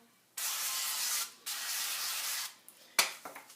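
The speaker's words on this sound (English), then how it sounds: "You spray it with non-stick canola oil." Two sustained bursts of aerosol non-stick canola oil spray hissing onto chicken drumsticks, each about a second long, followed by a few faint clicks and light handling sounds.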